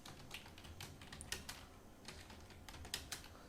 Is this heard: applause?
no